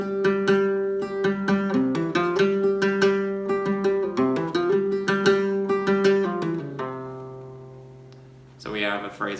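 Flamenco guitar plays a bulerías falseta phrase, quick plucked and strummed notes ringing in a lively rhythmic run, close and clear, with the last chord fading out before a brief flurry at the end.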